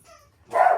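A pet dog gives a single short, close bark indoors after a faint moment of near silence, with no talking over it.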